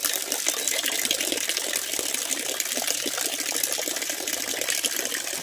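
Water from an overflowing tank pours steadily into a bucket below, a dense continuous splashing gush that stays at even loudness with no talk.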